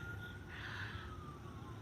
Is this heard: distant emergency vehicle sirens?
yes